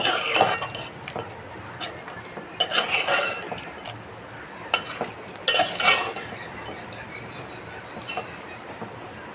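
A spoon stirs ginger garlic paste into an Andhra-style chicken curry, the pan clinking and scraping in several sharp bursts over a low, steady sizzle close by.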